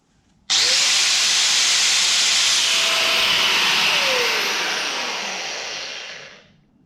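A Bosch angle grinder, just repaired with new carbon brushes, switches on abruptly and runs at a loud, steady high-pitched whine before spinning down and fading away.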